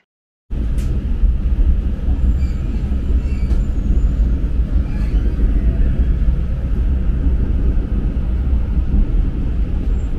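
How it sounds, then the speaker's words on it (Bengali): A continuous heavy rumble of the Kanchankanya Express rolling across the Vivekananda Bridge, loud and steady for several seconds, with faint clanks and rattles over the roar. "কাঞ্চনকন্যা এক্সপ্রেস শিয়ালদা থেকে ছেড়ে বিধাননগর রোড এবং দক্ষিণেশ্বর স্টেশনে দাঁড়িয়ে উঠে পড়ল বিবেকানন্দ সেতুতে"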